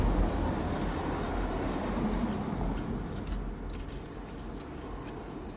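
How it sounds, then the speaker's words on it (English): Steady, continuous rubbing of 2000-grit sandpaper wet-sanding out 1500-grit scratches before polishing, a close, even rasping texture that holds at constant level throughout without pauses or voices. "I've now got to sand in with the 2000 so that I can remove some of the scratches which I've created with the 1500"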